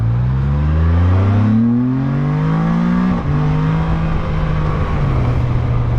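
A loud Can-Am Spyder F3-S engine revs up with rising pitch as it accelerates to 52 mph, then settles into a steady, droning hum at speed.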